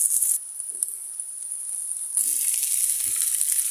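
Chopped onion frying in a small amount of oil for a banana blossom mash, giving a steady, fairly loud high sizzle that grows denser near the end, with faint clicks of a spoon against the pan.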